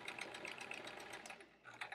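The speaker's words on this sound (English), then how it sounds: "it's a 70s Sears Kenmore sewing machine." A mechanical 1970s Sears Kenmore sewing machine runs with a rapid, even whirring chatter, faint and close, pausing briefly near the end before picking up again.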